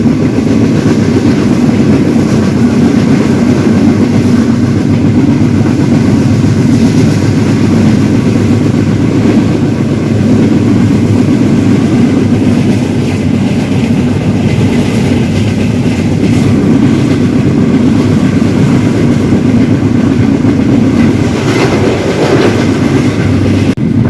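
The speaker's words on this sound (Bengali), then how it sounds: "বলতে বলতেই গতি দেখিয়ে দিল ট্রেন।" A train runs past near the Hili border market in Bangladesh, its wheels giving a steady loud clickety-clack rumble with carriage rattle that continues throughout the stretch, with no talking.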